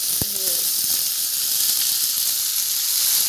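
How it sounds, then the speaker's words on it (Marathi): Potatoes and green chilies frying in hot oil give a steady, loud sizzling hiss that fills the whole stretch, with a brief clink near the start. "बटाटा आणि मिरची आता तळायला टाकले, तळून घ्यायचं"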